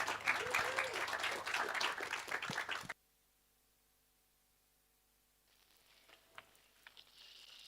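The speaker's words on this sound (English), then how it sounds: "Yeah, clap for Lindsay." An outdoor audience at a truth-telling gathering at Kamay Botany Bay claps warmly for a few seconds, with voices mixed in, then the applause stops abruptly. Quiet follows, and faint scattered sounds return near the end.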